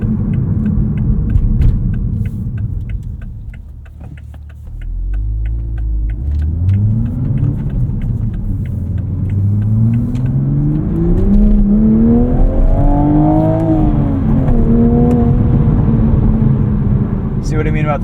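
A loud 2024 Toyota GR Supra engine with six-speed manual rumbles and revs close by, climbing in pitch through several gear changes that drop and rise again, with a voice over it.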